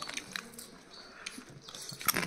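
Close, irregular bites, crunches and wet chewing from people eating fried crab, soft and intermittent.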